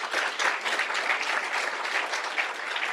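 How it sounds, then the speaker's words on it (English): A room of listeners at a conference on Pan-African global politics gives a brief, even round of applause, dense clapping lasting a few seconds at moderate volume. "give an applause already"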